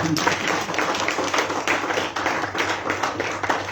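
Crowd at a Zimbabwean youth peace and tolerance gathering claps hands for student unions, a dense continuous patter of many hands filling the room with a faint murmur beneath.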